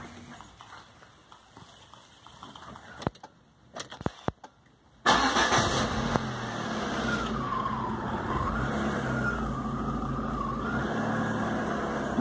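After a few seconds of near silence broken by faint clicks, a Citroën Xsara Picasso's engine suddenly cranks and catches, then settles into a steady idle that briefly swells and drops in pitch. The car is close and fairly loud, with no speech.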